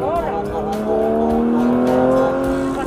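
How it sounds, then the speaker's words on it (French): Cars speed past nearby with revving engines and a brief tire squeal, the engine tones rising and sweeping over a steady roar, with voices talking over the traffic. "Les voitures nous rattrapent."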